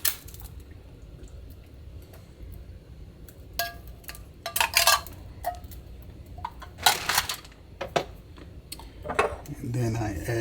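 Mushrooms, drained of their juice, go into a pot of venison stew amid scattered clinks and scrapes of metal utensils against cookware, with light kitchen clatter in bursts.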